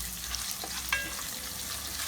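Onion frying with salt in a pan for a vegan curry, giving a continuous crackling sizzle with a couple of small stirring clicks, close and steady with no voices.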